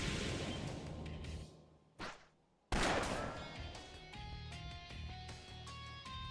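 Sniper rifle shots ring out in the role-playing game Trails of Cold Steel 3, sharp cracks and whooshes over a steady in-game music score, with a sudden burst after a brief near-silence.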